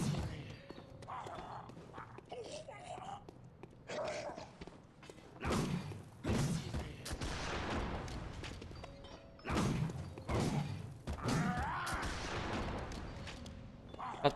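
Bursts of gunfire and heavy thuds in the video game Bloodborne come in uneven clusters, loud and close, with short quieter gaps between volleys.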